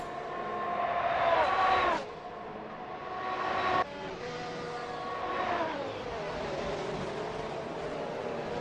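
Race cars in Assetto Corsa at a Spanish Grand Prix circuit, engines whining and rising through the gears as they pass close by, steady and loud, with a commentator talking over them.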